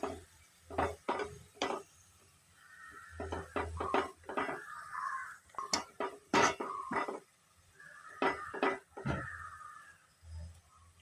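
Fried onions scooped out of a pan for chicken dum biryani, with a series of sharp metallic scrapes and clinks of a spoon against the pan, some in quick bursts, close and fairly loud.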